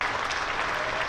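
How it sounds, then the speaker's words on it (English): A cricket crowd at a Hampshire vs Worcestershire one-day cup quarter-final gives polite applause as the team reaches 100, an even patter of clapping heard alone for about a second. "there's the applause for the 100"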